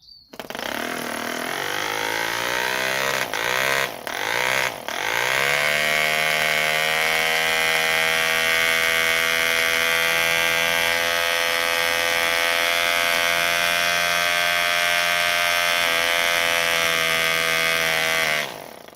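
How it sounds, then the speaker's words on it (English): A small model glow engine for a radio control Mercury Matador boat revs up, stutters and dips twice early, then holds a loud, steady high-pitched buzzing whine close by before cutting off at the end. "So let's go and run that motor up. Engine up, I should say."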